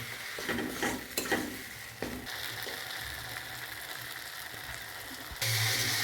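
Blended tomato and spices for a green pea curry get sautéed in a pan, a low sizzle with scraping and clattering stirring strokes at irregular intervals, then a louder, hotter sizzle bursts up near the end.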